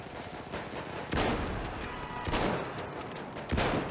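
Rapid gunfire during a multiplayer match in the World War I video game Fort de Vaux, fired from a Lebel Model 1886 rifle, with three sharp shots spaced about a second apart over steady battle noise.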